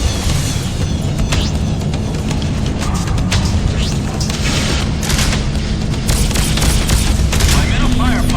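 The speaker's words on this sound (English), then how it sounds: "I'm in a firefight" Space combat in the game Freelancer, with a fleet attack underway: a dense, continuous roar of explosions and weapon fire, loud and steady, thickening toward the end with bright crackling bursts.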